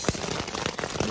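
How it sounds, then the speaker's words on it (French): Heavy thunderstorm rain in Corsica beating down on a surface, a dense close crackling patter with a few sharper drop hits throughout and no voices. "On est sous la pluie à fond, orage."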